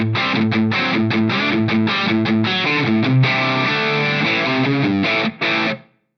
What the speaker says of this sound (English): This is just the stock Sculpt preset,